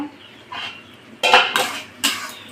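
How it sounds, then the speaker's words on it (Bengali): A metal lid is lifted off a cooking pot of simmering Malabar spinach with prawns, giving a few sharp clanks and scrapes of metal on metal, loud and close, with no talk. "এবার ঢাকনাটা তুলে নেব"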